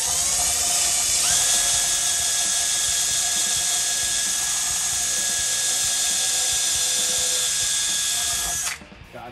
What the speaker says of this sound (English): what I'll have to do is drill one from here down into